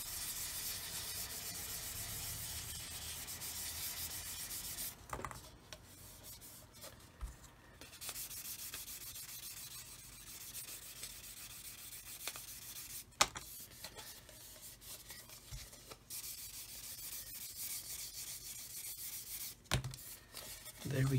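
Quiet, steady scraping of a sanding stick rubbing back and forth over a 1/48 scale plastic model fuel tanker, with a few brief knocks and pauses.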